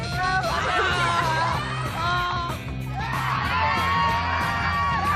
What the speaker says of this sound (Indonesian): Tepuk tangan ini memang buat mereka.